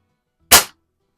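A 1970 Sheridan Blue Streak .20 caliber multi-pump air rifle fires a single sharp, loud shot at a Splatterburst target in a garage, then stops abruptly with silence before and after.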